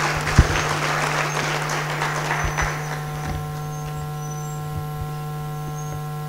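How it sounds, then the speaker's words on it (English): An audience at a university anniversary celebration applauds, the clapping strongest at first and fading out after a few seconds, leaving a steady background hum. "Please give them another round of applause."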